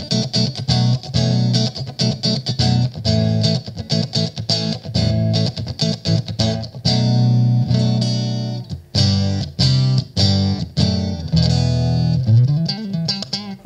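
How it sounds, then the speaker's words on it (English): An electric guitar played through a Big Top Airborne Acoustic simulator pedal, voiced to sound like an acoustic guitar: rhythmic strummed chords and picked notes, loud and close, with no talking. "Make any run-of-the-mill electric guitar sound like an acoustic guitar by plugging it into this bad boy"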